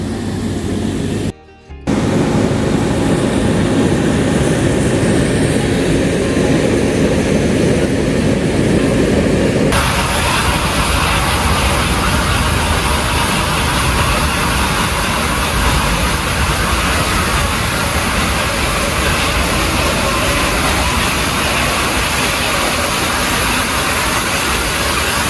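The Nilgiri toy train with its steam locomotive runs on the Ooty–Coimbatore mountain line, making a loud, continuous close rumble and rattle of rolling wagons that barely breaks after a brief dip near the start.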